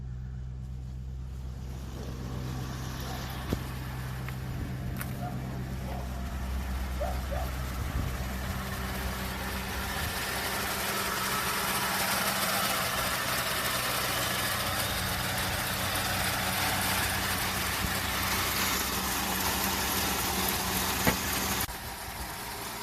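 2000 Lincoln Town Car engine idling after sitting for two years, a steady low rumble with faint ticking running throughout, fairly quiet and close, with no speech.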